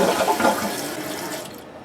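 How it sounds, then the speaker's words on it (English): A toilet flushes right after a bidet seat has been installed, a loud close rush of water that holds steady and then thins out and fades near the end. "Give it another flush."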